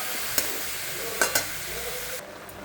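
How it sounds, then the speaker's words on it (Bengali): Steamed cabbage stirred into fried spices in a pan, a close steady sizzle with a few sharp scrape and clack sounds from the spatula, easing off near the end. "বাঁধাকপিতে মশলা ভেজে বাঁধাকপি ভাপানোটা দিয়ে দিয়েছি"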